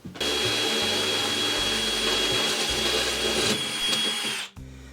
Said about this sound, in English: So I'll go ahead and drill that out.